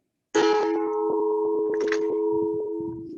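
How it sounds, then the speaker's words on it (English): A gong is struck once to call an adult class to line up. It rings out with a sharp metallic attack, then a long, bright, humming sustain that slowly fades. Faint incidental noises are heard beneath it. "getting ready to line up when you hear the sound of the gong"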